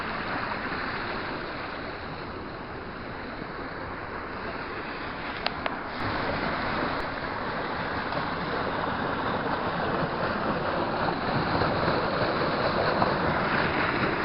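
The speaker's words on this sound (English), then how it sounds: "there's a lot of force of water in that one little waterfall" Steady rushing roar of a small, forceful waterfall beside an old abandoned stone bridge, a loud continuous wash of water that stays constant throughout, with a couple of faint clicks partway through.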